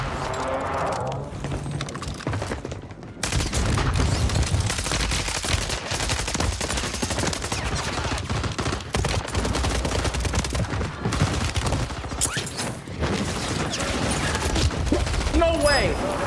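Rapid gunfire bursts crackle almost without pause in Call of Duty on Rebirth Island, dense and loud, with brief lulls between volleys.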